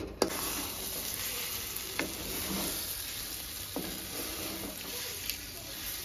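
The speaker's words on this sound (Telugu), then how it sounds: "ఫ్రై అవుతుందండి." Egg frying in a pan with a steady, moderate sizzle, broken by a few sharp ticks and soft scrapes as it is stirred; no voices.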